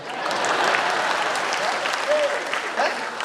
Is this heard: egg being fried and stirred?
no